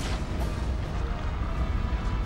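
Bowgun shots from Monster Hunter, a rapid run of heavy booming blasts that fill the whole stretch, loud and dense with little pause between them.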